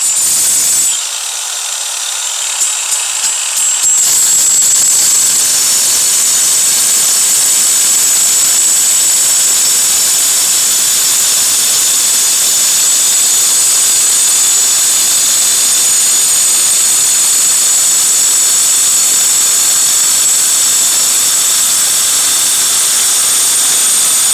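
Forte AG-21BC cordless angle grinder cutting through tile, a loud steady high-pitched whine after a short spin-up, continuous and close for the whole stretch with no talk.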